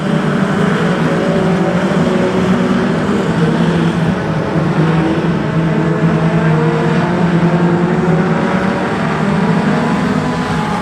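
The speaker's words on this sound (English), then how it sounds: "Jack Kay about 3 car lengths in front of Oliver in the number 5." National 4's race cars roar continuously at Kingaroy Speedway, a dense, steady wall of engine noise with no pauses and no voices.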